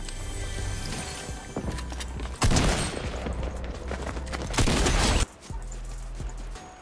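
Gunfire in the Fortnite video game crackles in bursts of rapid shots, with louder volleys standing out over a steady game background.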